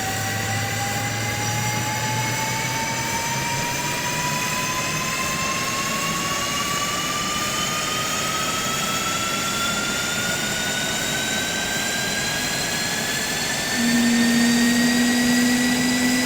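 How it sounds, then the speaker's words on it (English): An F-18 Super Hornet jet engine starts up in Microsoft Flight Simulator, a loud steady roar with a whine that climbs in pitch throughout, and a low hum joining near the end, with no talking. "All right, let's fire up the engine."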